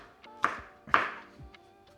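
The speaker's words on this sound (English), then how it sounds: "and then chop it up." Two sharp knife chops strike a cutting board about half a second apart, followed by a softer tap, close and clear in a quiet room.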